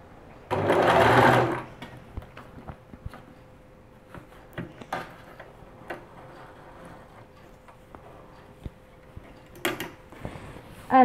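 A Lidl sewing machine runs in a short loud burst near the start, followed by scattered mechanical ticks, clicks and handling noises at a quieter level.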